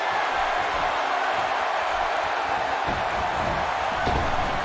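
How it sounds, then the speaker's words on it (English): A roaring Birmingham arena crowd from WWE 2K18, cheering as a match gets underway: a steady, loud, dense wash of voices that holds without pause throughout. "just listen to this Birmingham crowd as this one gets underway. They're deafening."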